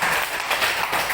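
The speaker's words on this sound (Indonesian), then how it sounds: "Oke, tepuk tangan semua." A class applauds together, a steady wash of many hands clapping at close range for a short burst with no talking over it.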